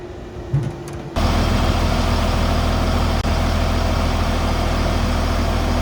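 A big tractor's engine runs in a farmyard as it is moved: quieter ambience at first, then a loud, heavy, low diesel rumble cuts in and holds steady and close.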